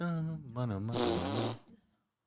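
A voice imitates a fart noise with a buzzing, wavering blurt that rises into a noisy burst, then trails off into silence.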